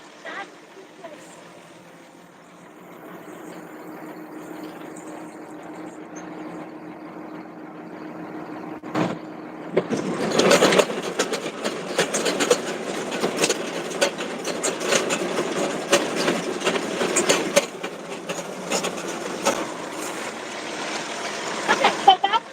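A tractor's PTO shaft spins up to drive a mower attachment on a farm, a loud steady mechanical whir and rattle that kicks in partway through and keeps running over low engine idle.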